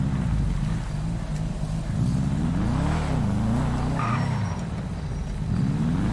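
A car driven in GTA V, its engine a continuous loud drone that rises and falls in pitch as it revs and shifts, close and steady for the whole stretch.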